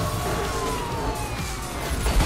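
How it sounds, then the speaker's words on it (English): A police car siren wails in Burnout Paradise over a loud engine roar, the tone sweeping slowly downward through a short burst of driving. "Right, sirens are on, we mean business."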